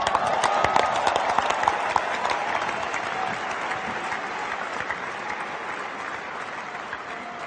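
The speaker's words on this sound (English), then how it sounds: "Before you start clapping" A large cricket stadium crowd applauds loudly and continuously during Sachin Tendulkar's farewell speech after his last match, a dense wash of clapping that slowly eases off.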